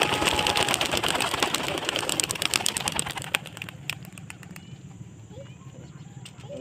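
Racing pigeons released on a self-toss about 5 km out near Angono, with a dense flurry of wing flaps and claps that thins into scattered flutters as the flock departs, over steady outdoor background noise.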